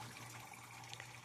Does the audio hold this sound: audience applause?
no